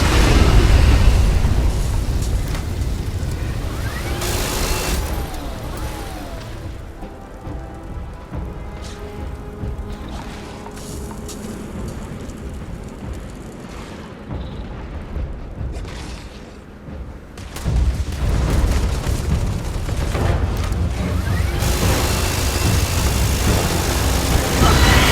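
Sustained gunfire and booming explosions from a firefight in the space game Starfield fill the scene, loud and dense throughout, easing slightly mid-way before swelling again.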